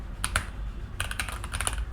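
Fast, uneven computer keyboard typing while entering Python code, with clusters of crisp keystrokes close to the microphone and short pauses between bursts.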